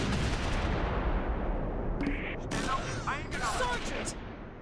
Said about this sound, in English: Artillery's available. Let's send it.